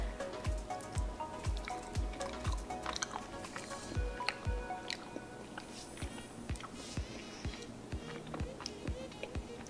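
Close, steady chewing of honeycomb, with repeated moist crunches and squishy bites in an irregular rhythm, continuing without a break.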